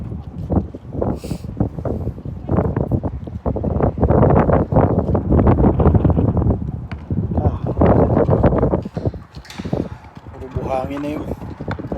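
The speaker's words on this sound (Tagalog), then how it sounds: "Hangin talaga." Strong, sand-laden wind buffets the microphone at an outdoor basketball court during a game. Loud rumbling gusts rise and fall while people talk and call out over it.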